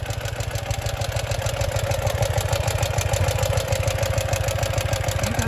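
A Ural motorbike that had not started for two weeks idles close by with a steady, rapid, even chugging pulse, loud and unbroken with no voices.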